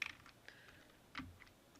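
Computer keyboard typing while an Excel nested IF formula is entered, a few faint, close key clicks in short bursts with quiet gaps between.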